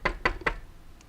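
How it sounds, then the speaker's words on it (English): Three sharp knocks on a car window, evenly spaced and close, alone with no talk. "You hear a knock on the window of the car."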